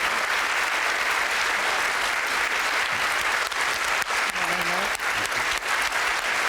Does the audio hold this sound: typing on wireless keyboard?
no